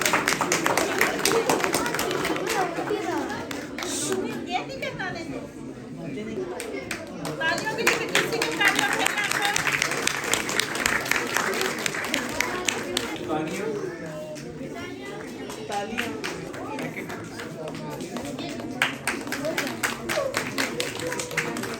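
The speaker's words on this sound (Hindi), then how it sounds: "बहुत ज्यादा तालियां।" A crowd at a Minhaj Quran quiz competition bursts into loud sustained applause for a contestant, dense clapping lasting throughout with voices and children's chatter mixed in.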